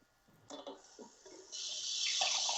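Tap water runs into a drinking glass, starting with a few splashy bursts and then settling into a steady, loud stream that fills the last second or so without any talk over it.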